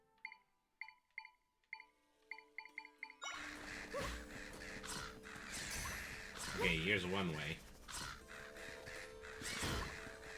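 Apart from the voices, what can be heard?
crow enemies cawing in Legend of Zelda: Echoes of Wisdom (video game)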